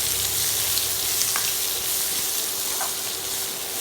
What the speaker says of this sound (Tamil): ஸோ இப்போ நாங்கள் வெங்காயத்தை போட்டு வெங்காயம் நல்லா வதங்கணும்